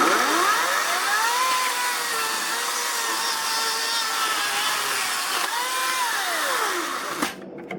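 Ryobi 40 volt Gen 3 cordless chainsaw cutting wood: a steady, loud motor whine rising and falling in pitch as the chain bites and frees up across two cuts, then cutting off near the end.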